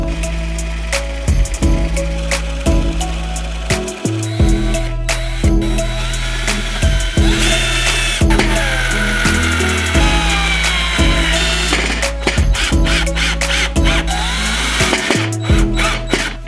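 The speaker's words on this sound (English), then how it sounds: "Now I just need to drill some holes on the sides" A power drill runs loudly in repeated bursts, motor revving up and stopping between holes, with occasional clatter, close by and no talking.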